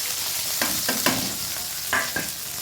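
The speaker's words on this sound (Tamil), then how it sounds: "இதில் வெங்காயம், பச்சை மிளகாய், கொஞ்சோண்டு பூண்டு நறுக்கி வச்சுருக்கேன், அதையும் ஆட் பண்ணிட்டேன்." Chopped onion, green chilli and garlic sizzle steadily in a hot pan, broken by several scraping stirs of a spoon against the metal.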